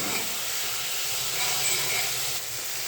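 Spices frying in a pan of Bengali coconut-and-pointed-gourd curry hiss and sizzle steadily right after a splash of water goes in, a continuous close, bright steaming sound with no talking.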